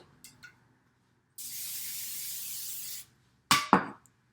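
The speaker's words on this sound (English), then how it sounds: "you're gonna give it a spray with some cooking spray." Cooking spray hissing onto a baking pan for about a second and a half, close and steady, framed by small clicks before and sharp metallic clatters of the pan afterward.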